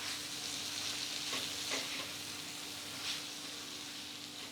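Mutton in a yogurt and spice masala sizzles and fries steadily on high flame while being stirred, with a few soft scraping strokes of the spoon rising over the continuous close hiss.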